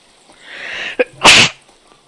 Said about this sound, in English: Didn't mean to sneeze right into the microphone.